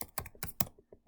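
Quick keystrokes on a computer keyboard, a short burst of about six close, crisp clicks typing a name.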